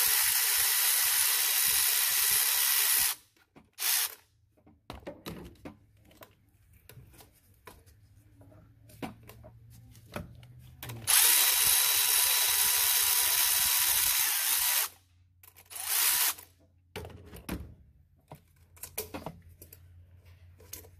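A power ratchet whirs in several loud bursts of varying length while loosening band clamps on a 2001 Cummins 24-valve diesel engine, with quieter mechanical clatter between bursts.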